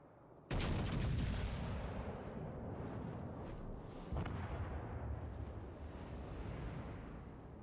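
Warship guns fire in World of Warships Legends, a heavy booming salvo that rolls into a long rumbling tail, followed by a second, softer blast a few seconds later, loud and alone without talk.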